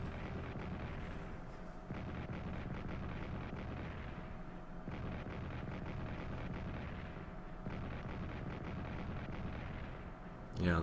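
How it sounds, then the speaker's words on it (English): Artillery bombardment explosions in the World War I strategy game Strategic Command, a dense continuous rumble of booms and blasts rolling on for about ten seconds with no clear gaps, ending in a sharper burst. "that's a lot of bombs"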